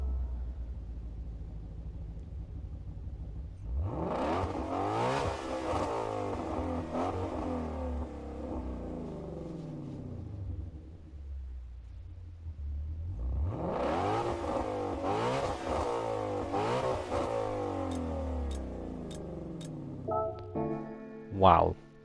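A classic American muscle car in Gran Turismo 7 revs through two long, loud sweeps, its engine climbing and falling in pitch with a deep rumble, then idling between runs, ending with short clicks and blips.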